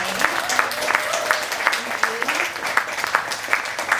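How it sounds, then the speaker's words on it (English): Applause for young poets at a youth poet laureate reading: a modest crowd claps in a loose, uneven patter with distinct individual hand claps, while voices carry underneath. "But another round of applause for the poets for today."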